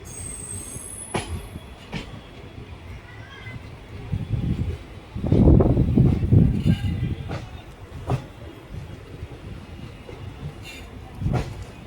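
A passenger train from Veraval to Lushala rumbles along the rails near Keshod station, with a louder surge of rolling noise midway and sharp clanks and squeals from the wheels.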